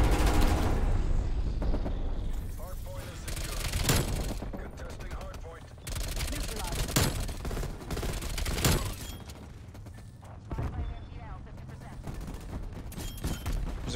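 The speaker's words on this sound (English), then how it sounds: "Teammate, what are you shooting at?" Bursts of automatic gunfire in a fast-paced first-person shooter, with rapid volleys and scattered single shots continuing throughout, close and loud, mixed with in-game effects and a player talking.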